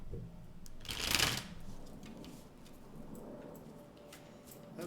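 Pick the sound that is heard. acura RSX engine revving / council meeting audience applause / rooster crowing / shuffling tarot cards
shuffling tarot cards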